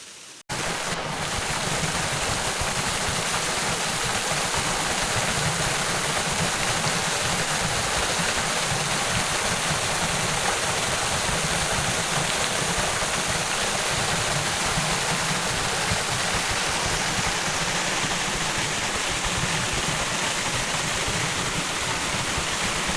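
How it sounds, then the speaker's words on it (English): A waterfall on a Pender Island trail in British Columbia, a constant close roar of rushing, splashing water that fills the whole stretch evenly without pause. "And we got a waterfall, Blaine, and a stunning bench."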